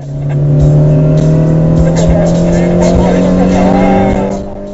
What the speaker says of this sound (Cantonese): 過咗個撞車位，大家就唰唰聲咁去啦。